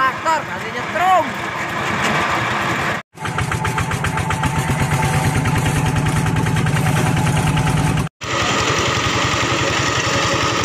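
An old tractor engine running on an asphalt road, a loud, close, steadily chugging drone that continues with two very brief cutouts, while someone talks over it at the start.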